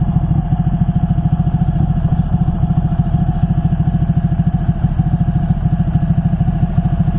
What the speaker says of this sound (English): This makes you feel like, yep, I'm on a motorcycle.